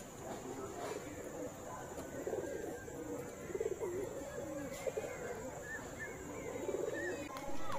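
Domestic pigeons in a home loft coo steadily in soft, low repeated calls, with a person talking over them the whole time.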